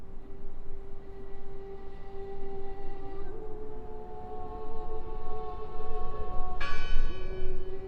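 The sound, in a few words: bell ringing, from video game Draugen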